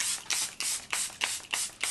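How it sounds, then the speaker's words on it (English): Setting spray is misted onto a face in six quick pump bursts at an even rhythm, each a close, crisp hiss with short gaps between. "I'm just spray it on my face."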